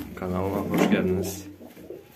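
Uzbek tumbler pigeons coo in a low, steady rumble close by, a few overlapping soft calls running through the two seconds with a voice alongside.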